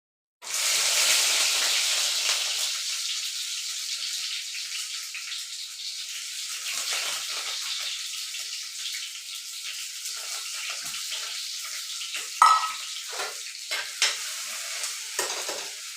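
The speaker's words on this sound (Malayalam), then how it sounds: "നമുക്കിനി ഇഞ്ചിയും വെളുത്തുള്ളി ഇട്ട് കൊടുക്കാവേ" Ginger and garlic fry in hot oil, with a strong hiss that rises near the start and stays steady for the whole stretch. Occasional sharp crackles and pops cut through near the end, and no voices are heard.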